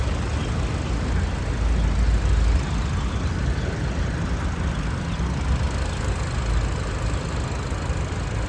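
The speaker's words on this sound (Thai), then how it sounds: "เป็นเครื่องยนต์พันแปดนะคะ" A 2014 Honda Civic FB with a 1.8-litre engine idles steadily, a low, even rumble heard up close and continuous with no voices.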